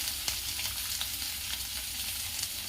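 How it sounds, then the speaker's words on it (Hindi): Potatoes fry in a pan with roasted masala and a spoonful of salt for an aloo matar sabzi, giving a steady, close, dense sizzle scattered with small crackling pops, with no voices. "मसाला तो भुना हुआ है इसलिए आलू को भून दूंगी"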